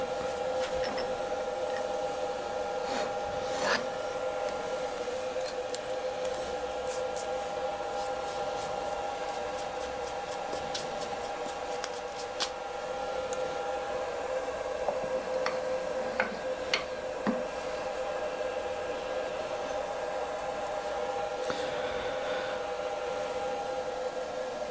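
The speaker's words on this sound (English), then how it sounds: "I'm using my carbide cutter, which, now having power feed on the X axis of this wonderful machine, it don't half cut like butter" A carbide cutter on a milling machine cuts metal under power feed on the X axis, a steady dense machining drone with a sustained tonal whine and scattered ticks running unbroken throughout, close and loud with no talking.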